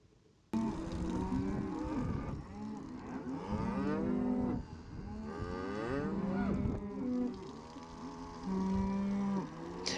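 Dairy cattle low out in a grazing paddock in late March, with several long, loud moos close by, one after another and overlapping, and no talk.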